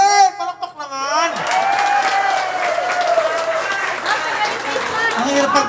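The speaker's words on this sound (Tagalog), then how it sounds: "Palakpak naman!" An audience at a trucking company's Christmas party in Cavite breaks into applause after a brief shouted voice at the start, with clapping and crowd noise filling the room under faint tonal sound and scattered voices.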